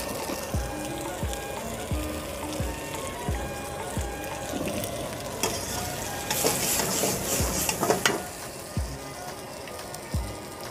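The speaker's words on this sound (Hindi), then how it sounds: "वेजिटेबल हमारा फ्राई होने को है" Vegetables for Mongolian rice and noodles frying in a pan, a close bubbling sizzle punctuated by regular knocks and scrapes of a spatula, growing busier midway, with no one talking.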